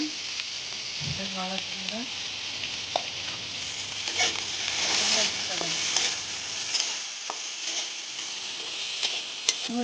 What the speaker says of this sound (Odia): ଏବେ ଆଳୁକୁ ତେଲରେ ପକାଇଦେବା।